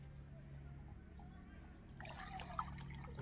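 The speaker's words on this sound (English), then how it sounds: "Put some water in like that." Water is poured into a small container at a forest campsite while cooking. A quiet hum runs underneath until a soft, splashy pour begins about two-thirds of the way through, with one brief bright clink.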